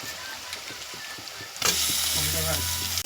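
Garlic paste hitting a hot pan with browned onions and chicken, quiet stirring at first, then a loud, sustained sizzle and hiss that fills the rest of the clip.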